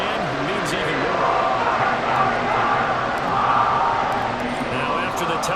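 A football stadium crowd roars steadily during an Eagles vs Commanders wildcard playoff game, a dense, sustained wash of cheering heard from within the stands.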